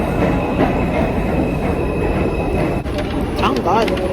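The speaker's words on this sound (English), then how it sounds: "My train is here," A subway train rolls into a station with a loud steady rumble of wheels on rails, a brief screech of braking near the end, and voices in the background.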